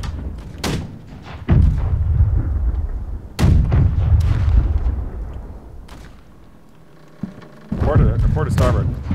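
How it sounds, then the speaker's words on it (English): Ship cannons fire a broadside in the naval game Blackwake: a string of loud, booming blasts spaced a second or two apart, each ringing out before the next, with a lull near the end and faint voices in the background. "We're gonna fire a port on this."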